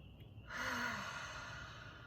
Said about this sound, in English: We're going to take one deep breath in together and release through our mouth.